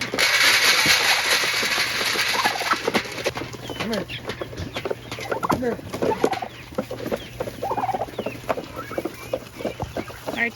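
Excited farm turkeys, kept as favored livestock, gobble and cluck in a busy flock close by, with a voice calling to them amid the bird chatter.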